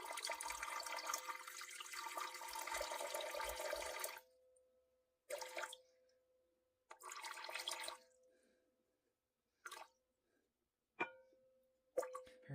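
Water poured into a bowl of sourdough dough ingredients, a steady splashing pour for several seconds, then a few short trickles and drips, close and quiet with no talking.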